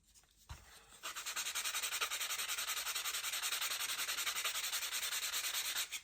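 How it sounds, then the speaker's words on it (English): Rhythmic back-and-forth sanding of model rocket fins, a fast, even scratching stroke repeated steadily and close by after a brief knock at the start, with no talk. "Remember, we don't trim, we sand."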